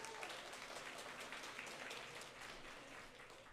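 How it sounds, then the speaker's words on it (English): Applause from a graduation audience at a high school ceremony, a steady wash of clapping lasting the whole stretch, fairly faint and distant with no talk over it. "Big round of applause for them."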